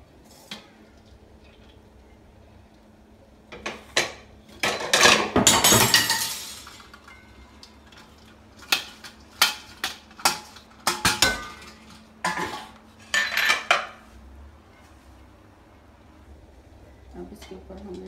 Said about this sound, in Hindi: अब तो सारे राइस अब इसके ऊपर हम डाल देंगे।